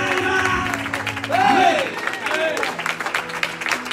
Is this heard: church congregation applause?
yes